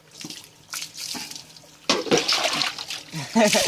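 Water splashes and pours in short bursts over a dog being washed outdoors in a village, loud and close, mixed with people talking and calling out.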